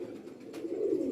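A single purebred pigeon coos softly, a low murmuring call that swells slightly toward the end, fairly quiet and alone without talk.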